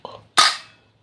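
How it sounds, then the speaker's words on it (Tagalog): A single sharp, loud shot from a homemade bullpup airgun, with a brief ringing tail, preceded by a faint short noise. "Try natin yung putok."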